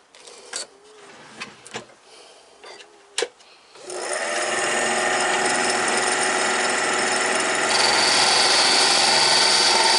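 A wood lathe turning a bottle jig starts after a few scattered knocks, then runs as a loud, steady whine with a continuous hum, its pitch rising slightly near the end.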